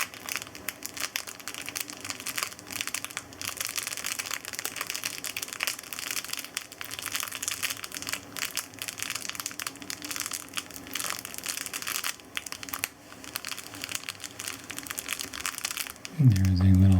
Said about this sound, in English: this is a little wrap. This one has some decent crinkles,